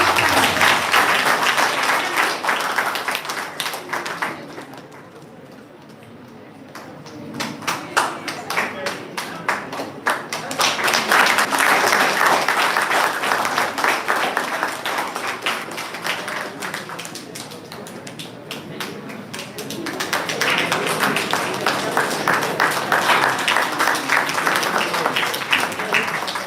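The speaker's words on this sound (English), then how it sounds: "a big round of applause for her" Seminar audience on teacher education breaking into loud sustained applause, dense clapping that dips briefly, swells again, fades somewhat and then rises once more, with voices mixed in.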